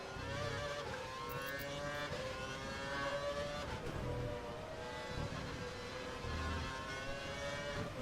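Race car engine in the sim racing game ARL at Abu Dhabi, revving hard and accelerating through gear changes, loud and continuous with other cars roaring close by throughout.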